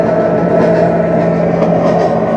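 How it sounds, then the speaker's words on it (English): A train locomotive simulator in a Norfolk Southern exhibit car produces a steady, loud, continuous diesel engine drone with a constant low hum and rumble as the train accelerates, with no voices over it. "move the throttle lever on the control stand up slowly through the notches to accelerate and get the train moving"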